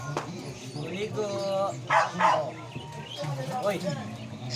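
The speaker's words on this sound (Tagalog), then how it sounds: "Na-extra din ng aso." A dog barks a couple of times near a swimming pool, the barks mixed in with people talking loudly throughout.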